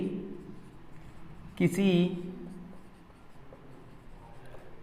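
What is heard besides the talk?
writing on a board during a maths lesson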